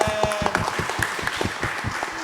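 A school crowd gives a short burst of clapping, a dense patter of many hands heard at moderate volume in a hall, lasting a couple of seconds.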